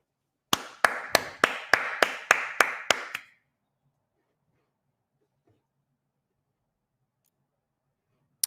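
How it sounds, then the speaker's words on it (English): About ten sharp hand claps in a quick, steady rhythm, close and fairly loud, stop after a few seconds and leave near silence with a faint click at the end. "Let's all clap for him real quick."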